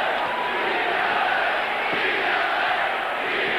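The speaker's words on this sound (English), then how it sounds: "The crowd is starting to chant, beat LA." A packed basketball arena crowd chants "beat LA" at a 1986 Celtics game, a dense, loud, continuous roar of many voices.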